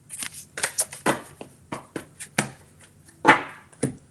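Cards are shuffled for a card reading in a quiet room, making a series of soft, close, irregular riffles and taps with no talking.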